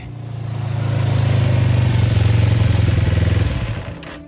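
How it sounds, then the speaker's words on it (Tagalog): A motorcycle engine drones loud and near, building up over the first second, holding a steady throbbing rumble, then fading out toward the end. "makarinig kami ng ingay ng motorsiklo"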